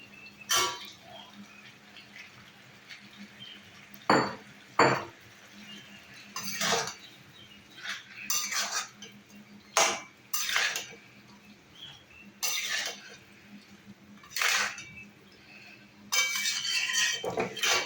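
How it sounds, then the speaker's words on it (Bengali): Fried shrimp and bitter gourd tossed into a pan of cooked-down potatoes and spices, then stirred, with repeated sharp metal utensil clinks and scrapes against the pan in irregular bursts over a low steady hum. "এবার দিয়ে দেব ভেজে রাখা চিংড়ি মাছ আর করলা"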